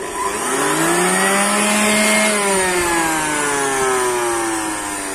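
An electric air blower running to inflate a monster balloon, a loud close motor whine that climbs in pitch, then sags slightly and holds steady, with no talk over it.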